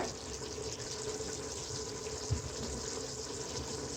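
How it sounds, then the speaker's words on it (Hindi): Water poured into a cooking pot of fried masala while making Algerian-style couscous, a steady, fairly quiet liquid stream running throughout with one brief knock midway. "मैं इसमें पानी डालूंगी 2 लीटर।"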